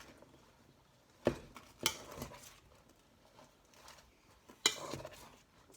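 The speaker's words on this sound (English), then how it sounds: "I'm just going to take this spoon and try to get the corn and stuff at the bottom and kind of mix it up a little bit." A spoon stirring a southwest salad with corn in a bowl, with soft scraping and a few sharp clinks against the dish spread over several seconds, close by and without speech.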